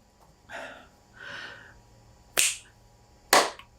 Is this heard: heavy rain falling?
no